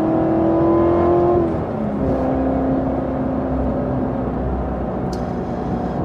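A Carbon 65 Corvette Z06 engine drones steadily while driving, its pitch dropping as a gear change comes and then holding a lower, even hum, close and continuous.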